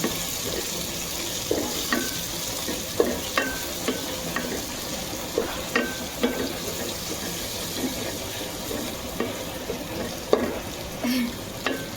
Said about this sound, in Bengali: এখন আমি হালকা নেড়ে ছেড়ে নেব